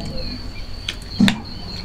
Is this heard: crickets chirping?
yes